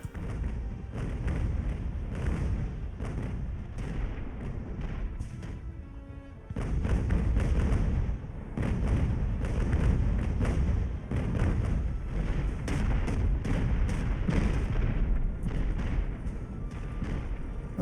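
Sailing-ship cannons fire in the naval battle game Ultimate Admiral: Age of Sail, with dense, rolling booms and thuds overlapping continuously, dull and heavy, some volleys near and others farther off.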